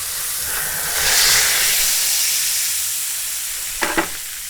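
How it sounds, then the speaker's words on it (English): A roast beef joint sears in a hot pan, giving a loud, continuous hiss that swells and fades, with a short double clatter of metal near the end. "So we want to sear it all the way around"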